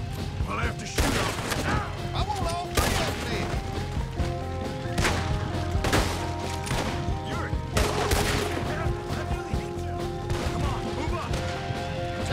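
Gunfire in the Red Dead Redemption 2 video game, with repeated shots and crashing impacts cutting through steady game music and ambience over twelve seconds, while voices talk intermittently.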